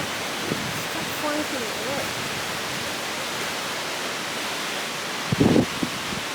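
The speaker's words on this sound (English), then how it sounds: "So it's a lot of rain over a short period of time." Heavy tropical downpour in a Cambodian city: dense, even hiss of rain that never lets up, with a few faint voices and one brief knock near the end.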